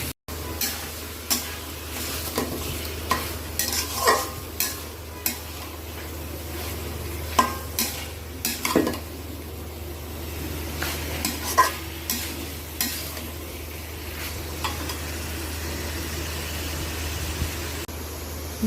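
Guchi fish frying in spice paste in a pan, with a steady sizzle and irregular scraping, clanking stirs along the bottom, each stroke louder than the hiss beneath.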